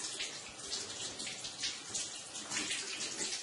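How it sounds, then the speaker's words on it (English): Tap water runs steadily as hands are rinsed during an aseptic hand-washing routine, a close, continuous splashing hiss that swells and eases slightly as the hands move under the stream. "Rinse your hands in the same way"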